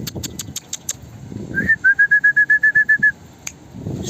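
Pigeons in a home loft with chicks: a run of about a dozen evenly spaced high whistling notes, close and clear, with faint rustling and soft low coos around them and a few sharp clicks.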